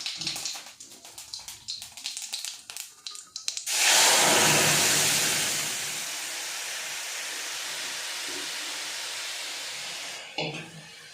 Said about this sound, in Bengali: একটু সাদা জিরেই ফোড়ন দেবো